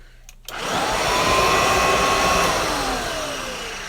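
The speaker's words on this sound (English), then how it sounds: "Of course, it's got wet bearing noise" An old reconditioned vacuum cleaner with wet, worn bearings switches on abruptly and runs loudly, its motor whining up to speed and then holding a steady, rushing roar with a slight falling tone.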